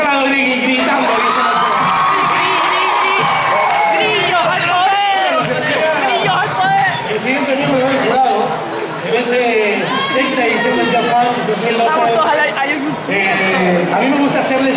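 A large crowd shouts and cheers loudly and continuously at a hip hop dance event, Just Funk 2012, with children's shouts, whoops and babble filling the whole stretch.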